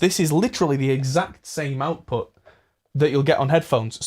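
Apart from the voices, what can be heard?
No everyday noise stands out behind the speech.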